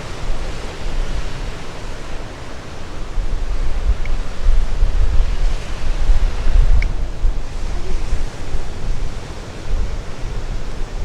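Loud, continuous roar of surf at Makapu'u Beach, Hawaii, with broad rushing noise that swells and eases, likely mixed with wind, no voices.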